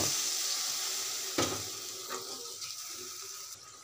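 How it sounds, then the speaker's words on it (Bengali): Steady frying sizzle of dried fish curry fills the clip, with a brief sharper hiss and crackle as water hits the hot pan, then the sizzle carries on alone. "শুটকিগুলো ভালো করে কষানোর জন্য আমি সামান্য পানি দিয়ে দেব"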